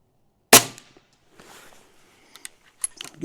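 A custom UX Notos air rifle fires one sharp, close crack, followed by faint mechanical clicks and handling noises in an otherwise quiet setting.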